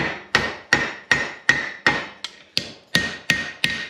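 A hammer striking metal on an anvil during forging, flattening the stock, heard as about ten sharp, ringing blows in a steady rhythm, close and loud with no talk.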